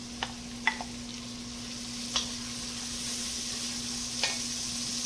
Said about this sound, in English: I'm going to add my carrots and my celery.